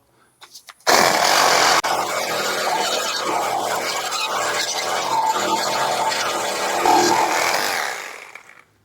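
A Milwaukee M12 compact handheld Sawzall cutting through a stuck Ram lower control arm bolt, a loud continuous buzzing rasp starting abruptly after a few faint knocks and running for several seconds before fading.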